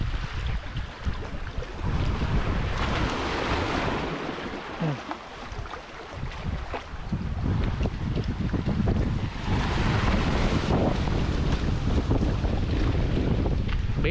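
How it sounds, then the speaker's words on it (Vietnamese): A strong wind roars steadily across the microphone while sea waves rush and churn below, loud and continuous without any talk. "Biển quá đẹp mà cũng quá sóng."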